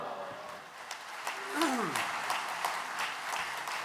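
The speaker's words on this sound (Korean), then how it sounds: "할렐루야로 하나님께 영광 돌리며 목사님을 박수로 환영하시겠습니다." A church congregation at an evening devotional service claps to welcome the pastor, giving light, scattered handclaps that sound faint and somewhat distant, with a voice briefly heard among them.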